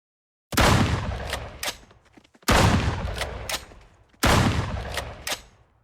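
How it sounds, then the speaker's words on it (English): Three loud hunting rifle shots ring out in an Unreal Engine 5 video game, each a sharp crack with a long decaying echo, spaced about two seconds apart. "Next up, let's see how the hunting rifle does"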